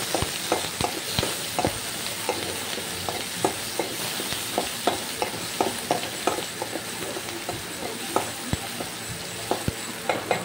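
Tomato pieces stirred into a frying pan while making stuffed brinjal curry, with a steady close sizzle broken by regular scraping and clacking strokes of the spoon, no voices.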